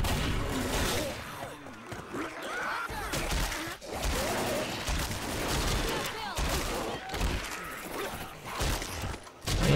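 Dense, continuous gunfire from a Left 4 Dead zombie shooter in a dark, foggy woods map, bursts crackling loudly and nearly nonstop with crashes mixed in, players' voices faintly under the shooting.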